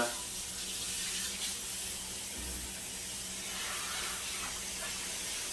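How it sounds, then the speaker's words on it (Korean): Steady hissing spray of water from a shower head rinsing a dog during a bath, close and continuous without pause. "야, 이 샤워기 볼트는 좋다."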